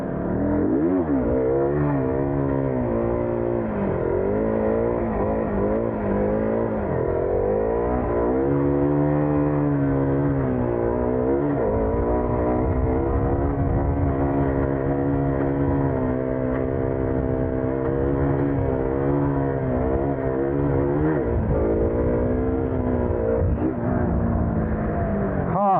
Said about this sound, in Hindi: तो ये थी गियर शिफ्टिंग व्हीली जो कि मैं यहाँ तक लेते आया हूँ